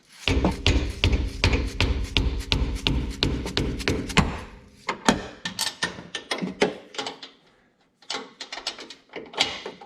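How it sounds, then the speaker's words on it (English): Sharp metallic taps and thuds of a hammer striking a wrench to break loose a bolt on a 5th-generation Toyota 4Runner, repeated in irregular bursts with short pauses, close and fairly loud. "I'm going to hit it with the hammer to kind of break it loose"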